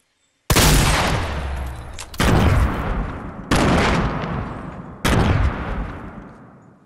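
Four heavy grenade blasts in Fortnite, each a sharp loud boom that decays into a long rumbling tail, spaced roughly a second and a half apart and heard alone with no voices.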